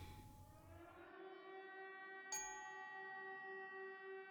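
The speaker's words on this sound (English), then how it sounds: "Air raids, Siren." A long, steady air raid siren in the video game Hollow Home drones with a sustained wavering tone, interrupted by a brief sharp click; no voices.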